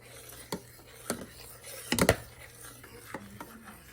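A spoon stirs milk with custard powder and almonds in a pot, giving a few sharp scraping clinks against the metal at irregular intervals, with a quick cluster of knocks midway, over a quiet background.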